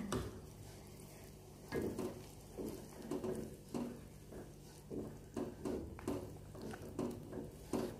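Beef tonseng being stirred in a frying pan, with soft repeated scraping and clinking strokes of a utensil over a low steady sizzle, fairly close and without talk.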